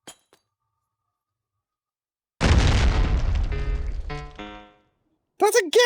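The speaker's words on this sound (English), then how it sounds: "That's a gas grenade!" Gas grenade going off in the H3VR virtual reality shooter: a single loud, broad burst that rolls on for about two seconds with glassy clinking in its tail, then fades out, followed by a brief voice at the end.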